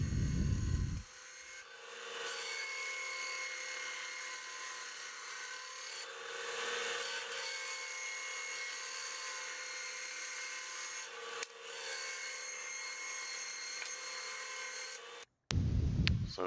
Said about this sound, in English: And just take that over to the bandsaw and cut my lines out